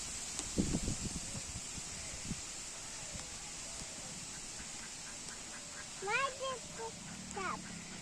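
Ducks at a village pond quack a few times near the end, following a stretch of soft rain patter and rustling on the bank, with a voice speaking faintly now and then.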